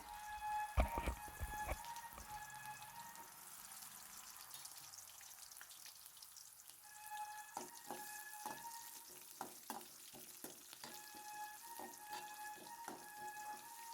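Onions fry in a pan for a sprouted horse gram stir-fry, giving a faint, steady crackling sizzle throughout, with soft stirring scrapes and clicks from a spoon.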